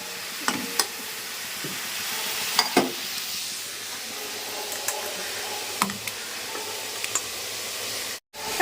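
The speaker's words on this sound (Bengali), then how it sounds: "চিংড়ি মাছ ভাজছি" Prawns frying in a pan, a steady close sizzle running throughout with occasional sharp clicks and taps of a utensil stirring, and no talk.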